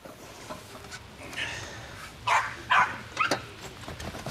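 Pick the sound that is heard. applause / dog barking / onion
dog barking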